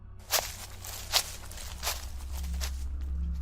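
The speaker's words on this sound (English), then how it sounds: "I started hearing footsteps disturbing the leaves behind us." Footsteps crunch through dry leaves in the woods at night, a few soft, spaced steps over a steady low rumble of background noise.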